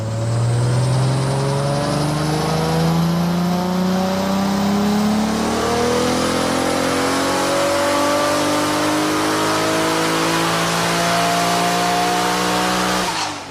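A tuned HPI R34 Skyline, strapped down on a dyno, revs hard and loud in one long continuous pull, its engine pitch climbing steadily for over ten seconds before cutting off abruptly.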